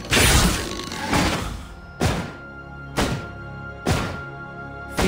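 Enemy turret destroyed in the MOBA game Vainglory: a big crashing shatter up front, then a series of heavy thunking impacts roughly once a second, each decaying quickly, loud and close.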